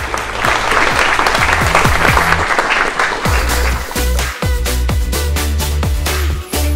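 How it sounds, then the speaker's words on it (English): Loud, sustained audience applause fills a hall at a career opportunity day event, steady clapping from a large crowd with no break. "give them a big round of applause"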